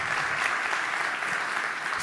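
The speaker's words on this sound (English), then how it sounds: "So let's just give a round of applause again for all of them" A startup eMobility award audience gives a dense, even round of applause for the competing startups, moderately loud and continuous with no voices over it.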